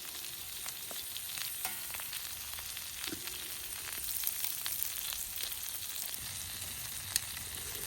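Tomatoes cooking down in a frying pan for a one-pan brunch, a soft, steady sizzle with frequent small pops and crackles and occasional faint stirring, fairly quiet and with no speech.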